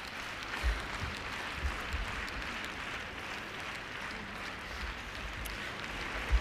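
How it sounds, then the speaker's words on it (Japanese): Arena crowd applause at a 2000/2001 Grand Prix Final figure skating competition, heard while the skater's scores come up. It is a steady, dense wash of clapping with no breaks, heard from within the audience and mixed with a faint broadcast ambience. "大きな拍手とともに今得点が出ました。"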